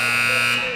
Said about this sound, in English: And that buzzer signals the end of the first period.